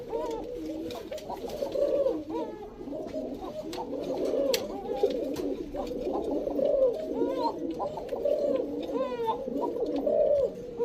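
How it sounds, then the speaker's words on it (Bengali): Bashiraj kokka and Giribaz high-flyer pigeons cooing repeatedly in soft, throaty rolling calls, several birds close by, with scattered chirps and faint background noise. "কক কক ডাক শুনলে ভালোই লাগে।"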